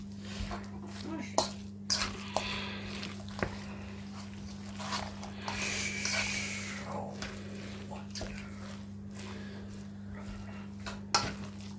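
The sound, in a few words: mixing meatloaf ingredients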